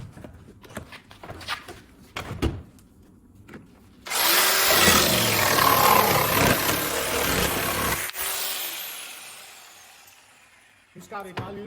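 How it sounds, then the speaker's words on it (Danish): A jigsaw makes a straight cut through a plywood sheet, a loud, steady, close buzzing rasp that runs for several seconds and then winds down, framed by handling knocks and brief talk. "Nu vil vi gå over og skære et lige snit på en krydsfinirsplade"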